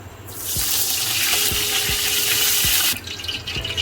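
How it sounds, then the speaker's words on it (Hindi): One cup of cooking oil pours into a pot for beef pulao, a steady close hiss and gurgle lasting over two seconds before stopping abruptly, with no talk. "1 कप इसमें ऑयल डाल दिया"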